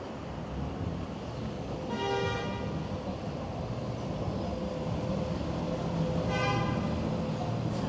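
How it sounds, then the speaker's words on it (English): Car horns honk on a Park Slope, Brooklyn city street in New York, two clear bursts of tooting over steady traffic and street noise, one early and one near the end. "Everyone is honking, and you are not surprised by that too."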